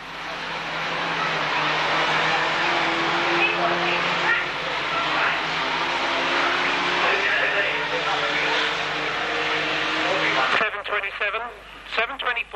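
Racing engines drone steadily at a distance along the back straight at a 1991 Braintree Auto Club van meeting, under continuous talk, before the engine noise cuts off abruptly near the end.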